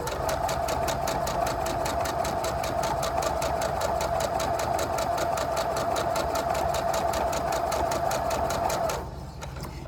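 A sewing machine stitching quilt-top pieces runs continuously with a fast, even mechanical chatter for about nine seconds, then stops abruptly near the end, close and loud with no talking.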